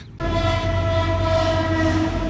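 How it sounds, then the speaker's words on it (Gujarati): A train rumbles past close by at a closed level crossing, its horn sounding a long sustained tone over the heavy rolling noise. "ટ્રેન આવવાની છે ફાઇટક બંધ થઈ ગઈ છે"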